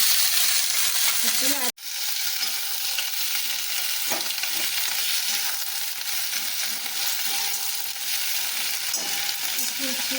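Garlic, onion, green chilli, flat beans and shrimp sizzle and fry together in a hot wok, a steady loud crackle running throughout after a brief sharp break near the start, with no talking.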